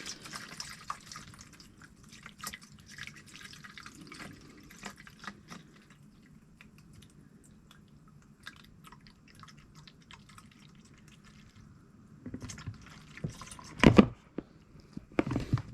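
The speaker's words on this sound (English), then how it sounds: "let's pour about 3/4 gallon in there" Blue liquid is poured into a VEVOR portable camping toilet, with sparse drips and trickles at first, then a short louder splashing pour near the end.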